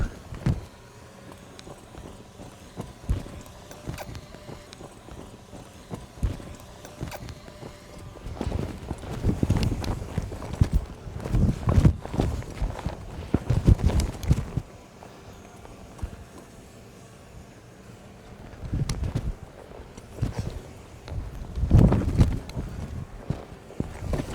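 A horse's hooves clip-clop and thud on dirt as it works a cow in cutting, uneven bursts of steps that quicken and fade over about twenty seconds, fairly close, with faint background noise.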